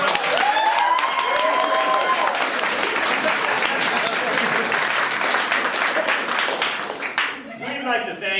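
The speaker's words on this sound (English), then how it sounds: "please give him a loud, scary round of applause." A comedy show audience gives loud, continuous applause and cheering as a comedian walks on stage, filling most of the clip before fading, then a speaking voice comes in at the end.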